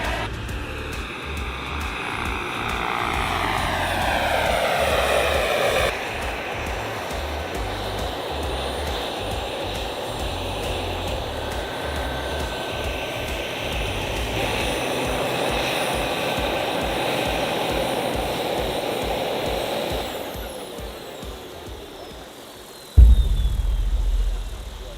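A giant turbine-powered RC jet aircraft flies past with a steady, loud jet whine and roar whose pitch sweeps down as it passes, then fades into a long, distant hum before a sudden burst of noise near the end.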